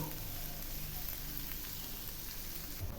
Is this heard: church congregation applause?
no